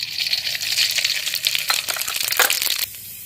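Mustard seeds and cumin sizzle loudly in hot oil for a tempering, with a steady close hiss and fine crackles that cut off abruptly near the end. There is no talk.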